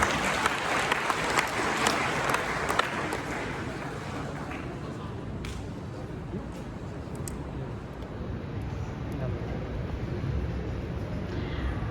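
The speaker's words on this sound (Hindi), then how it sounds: "कृपया जोरदार तालियों से सबका हार्दिक अभिवादन करें" Sustained applause from an audience in a college auditorium welcoming guests at a postal workers' workshop, dense steady clapping that continues throughout without a break.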